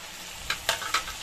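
Ginger-garlic paste with chilli, turmeric and salt frying in a pan for aar fish kalia, a steady close sizzle broken by three or four sharp scraping strokes of a spatula.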